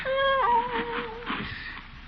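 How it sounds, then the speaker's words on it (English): A cat meows as a radio show sound effect, a clear rising and falling wail near the start followed by a softer drawn-out tail, alone without talk. "What's that? Is that you, Leroy? Oh, a cat."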